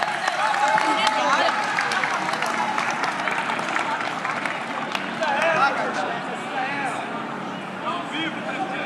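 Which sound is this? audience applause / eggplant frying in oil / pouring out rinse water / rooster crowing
audience applause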